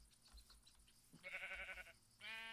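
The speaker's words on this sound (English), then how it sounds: "A bunch of sheep that I must shear." Sheep bleat in a video game village, a short tonal bleat mid-clip and another strong, raspy bleat near the end, over quiet game ambience.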